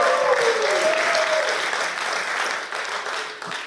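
A church congregation applauding steadily, dense clapping that carries on throughout and eases slightly near the end.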